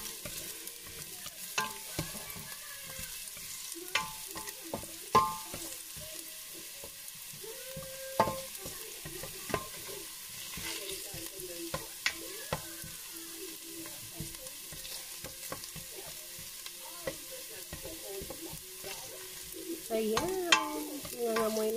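Ginger and garlic fry in a pan with a faint, crackling sizzle, stirred now and then with scattered clinks and scrapes of a utensil.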